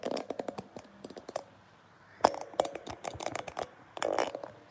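Clicking and knocking from a camera stand being adjusted in a home craft room, a run of sharp close clicks with a few louder clunks, no talking.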